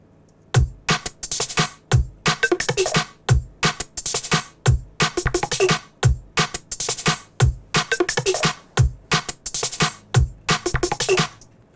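Layered sampled percussion groove summed through a master bus, with punchy repeating hits in a steady, busy rhythm, loud and dense, no voices.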